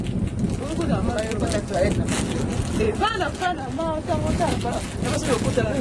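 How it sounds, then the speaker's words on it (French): Wind buffets a microphone outdoors in Paris, a steady broadband rush under a close, chatty family conversation that runs throughout. "Il y a du vent ici."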